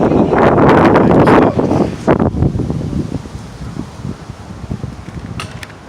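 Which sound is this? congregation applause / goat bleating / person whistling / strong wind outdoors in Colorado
strong wind outdoors in Colorado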